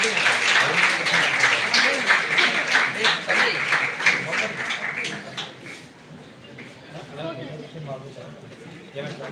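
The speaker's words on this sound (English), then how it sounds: "Please join me in welcoming him with a big round of applause." A crowd applauds at a World Engineer Day event to welcome a speaker. The clapping is loud and dense at first, then thins and fades as talk continues underneath.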